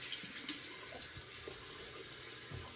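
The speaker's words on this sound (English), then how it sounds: "Do a little hand rinse because I got stuff everywhere." Hands being rinsed under a running faucet, with a steady soft splash of water into a sink and small shifts as the hands move through the stream, quiet and close, with no talk.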